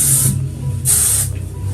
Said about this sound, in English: and spray